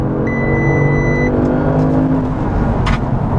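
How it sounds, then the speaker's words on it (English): A 2015 Audi S6 engine accelerates with a deep, loud, steady bellow, while a thin electronic chime sounds briefly over it near the start. "try, if you can, to listen to the engine. It's got a deep"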